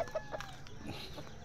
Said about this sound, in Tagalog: Ito mga sisiw yan.